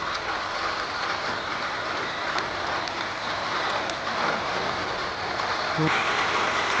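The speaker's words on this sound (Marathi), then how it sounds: "जोरदार पाऊस चालू झाला आहे" Heavy rain pours down steadily outdoors during a crab and fish catching outing, a dense continuous hiss throughout with a voice speaking over it.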